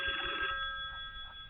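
A telephone rings with a bright, steady electronic bell tone that fades after about a second, moderately loud with no talk.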